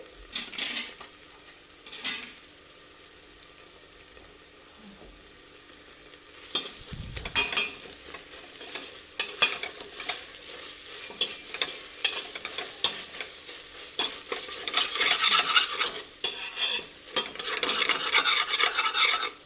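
Chicken chops with fenugreek leaves and ginger-garlic paste roast in a pan while a utensil stirs them, producing repeated close scraping strokes over a steady sizzle that grows busier and louder toward the end.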